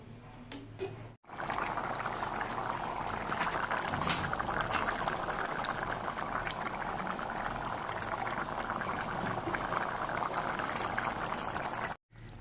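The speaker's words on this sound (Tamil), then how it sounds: "ஒரு 5 நிமிஷம் நல்லா கொதிக்க விடுவோம்" Kurma, a Tamil side dish for chapatti, boils in a pan after water and salt are added, giving a steady bubbling hiss that runs near and fairly loud, with two brief gaps near the start and end.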